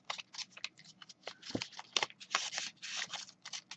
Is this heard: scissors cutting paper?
yes